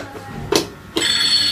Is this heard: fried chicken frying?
no